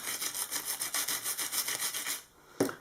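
A manual die-cutting machine from an Action store cranks paper through its rollers with a rhythmic, rasping rub of repeated strokes for about two seconds, then a pause and one sharp knock, fairly close and quiet.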